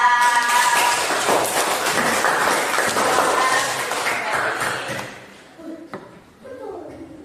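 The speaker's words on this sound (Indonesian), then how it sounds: "beri tepuk tangan untuk kelompok 3" Applause from an audience in a classroom group discussion session, a burst of loud clapping that fades over several seconds into scattered taps and quiet.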